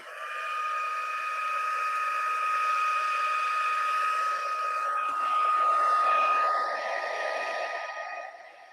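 A heat tool blows steadily while heat setting embossing powder on a handmade card, a continuous hairdryer-like whoosh with a faint whine, fairly close, lasting the whole stretch and swelling slightly near the end.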